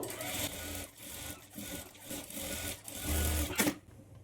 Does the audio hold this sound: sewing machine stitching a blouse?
yes